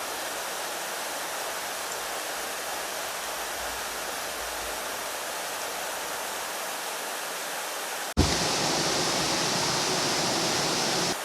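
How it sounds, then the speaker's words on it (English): Water drains from a canal lock beside a narrowboat, a loud, steady rushing roar that surges louder near the end. "all I have to do is simply wait for the CRT man to drain the lock and open the gate for me"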